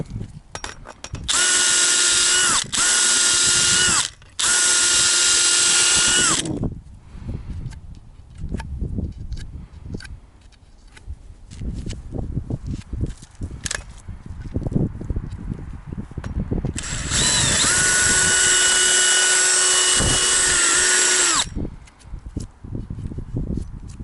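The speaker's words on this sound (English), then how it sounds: "now I'm going to use a burr at the end of a drill." A power drill fitted with a burr grinds out the thumb pin bore on a Kubota KX121-3 mini excavator. It makes two long, loud, steady whining runs with metallic scraping and clanking between them.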